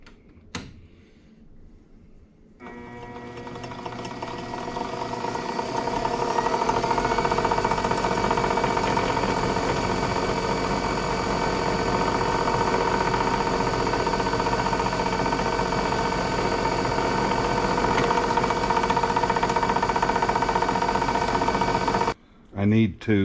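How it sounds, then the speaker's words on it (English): A power drill with a bit bores a larger hole in a toy pop gun, letting out a steady, loud motor whine that runs continuously for about twenty seconds before cutting off. "to drill a larger hole that I can put the knot inside when I knot the string"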